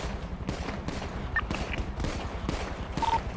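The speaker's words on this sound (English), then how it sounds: "Oh, they're shooting me." Gunfire in a GTA roleplay gang fight: several loud shots and short bursts at irregular intervals, close by, over a steady rumbling background, with no voices.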